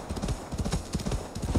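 Horse hooves clip-clopping in Assassin's Creed Valhalla, a quick run of close, loud hoof strikes with a steady galloping rhythm and a faint whinny-like tone woven in.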